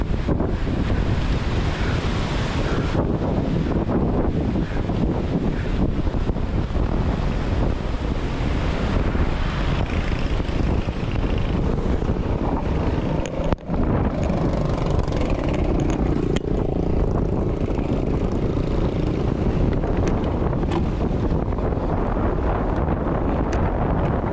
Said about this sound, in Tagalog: Sobrang lamig ng siwi ng hangin dito.